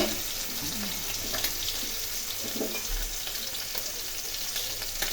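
Katla fish curry base of tomato, ginger paste, salt and turmeric sautéing and being stirred in a pan, giving a steady, even sizzle with faint scraping throughout, with no talking.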